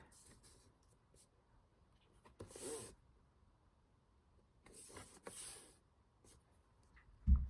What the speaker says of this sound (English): just line up your lines on one of the score lines and just gently score, not too hard